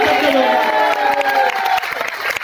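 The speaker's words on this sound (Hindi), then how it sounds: "मैं चाहूंगा इनके लिए अब तक की सबसे जोरदार तालियां बजाकर दिखाएं, जोरदार" Audience applause and cheering at a diamond safe shop event in Aligarh, a loud dense crowd clapping throughout with some voices mixed in, steady and close.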